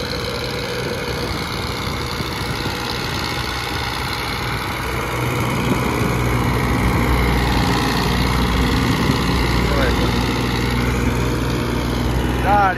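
A small tractor engine strains uphill hauling a fully loaded sugarcane trolley, a steady, loud low drone that grows heavier midway, with voices faintly in the background.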